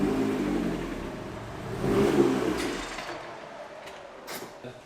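A turbocharged Mazda Miata with a built engine creeps onto dyno rollers, its engine rumbling and briefly swelling in a low rev before settling and fading, with a few faint clicks at the end.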